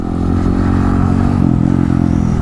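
Honda Grom motorcycle engine running steadily at close range, a loud, continuous low rumble with a constant drone and no talking.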